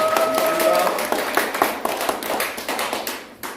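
An audience at a lecture session applauds, a steady patter of many hands clapping that thins out and fades over a few seconds, with some faint talk underneath.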